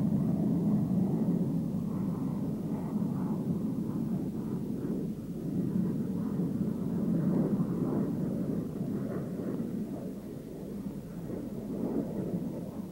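McDonnell Douglas F-15 Eagle jet on its landing approach, trailed by an F-4 chase plane, a steady low rumbling engine roar that stays fairly loud throughout with gentle swells.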